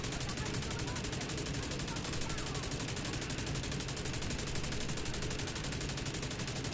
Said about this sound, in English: Of course it's a machine gun dude.